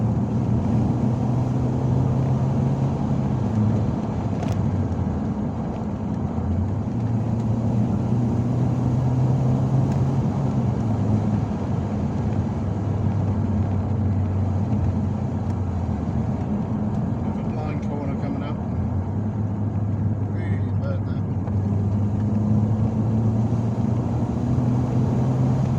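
A 2.0-litre 8-valve MK4 VW Golf GTI drives along a bumpy country road, its engine droning steadily with gear changes shifting the hum, while someone talks over the cabin noise.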